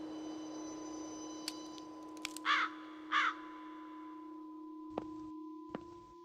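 Crows cawing in the video game The Lost Crown, two short harsh caws a little apart over a steady electronic tone and hum, with a few faint clicks.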